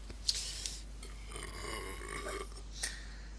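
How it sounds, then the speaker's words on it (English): A single drawn-out burp from a person during a drinking session, close and fairly loud, with nothing else over it. "first burp of the night"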